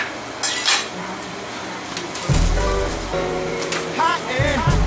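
A hot pan and metal utensils clatter and scrape during cooking, with a few sharp knocks and a heavier rattle partway through, close and moderately loud with a voice heard briefly.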